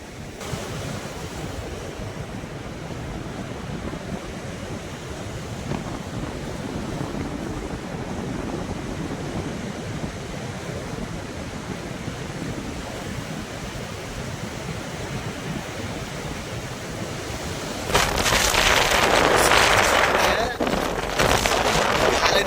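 Strong wind and rough waves at sea before a storm on a fishing trip, a continuous loud roar of surf and wind buffeting, swelling louder near the end.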